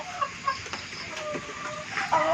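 Chickens, including Texas-breed roosters, eating rice bran feed in the morning, giving soft scattered clucks and short calls at moderate distance over a quiet background.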